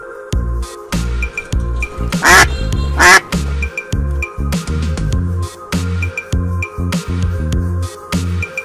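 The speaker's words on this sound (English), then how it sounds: "Goose, this is goose." Two short, harsh goose honks ring out over a steady, thumping musical beat.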